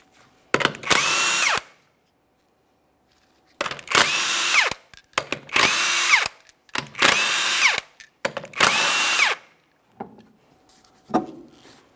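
An impact gun spins off the rear wheel lug nuts of a 2007-2017 Mitsubishi Lancer 2.4L, giving five loud, close whirring bursts of about a second each, separated by short silent gaps.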